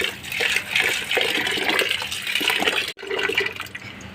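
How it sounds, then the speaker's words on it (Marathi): Soaked sorghum grain rinsed in water, a steady close rush of pouring and sloshing water lasting several seconds, briefly cut off before resuming. "बघा आपण ज्वारी 3-4 पाण्याने स्वच्छ धुवून घेतली."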